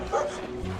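Dogs at an animal shelter give a short bark and yip, close and moderately loud against a busy background.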